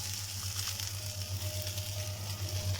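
Softened onions frying in a pan give a steady, fairly quiet sizzle with a low hum beneath as peppers are added, with no one speaking.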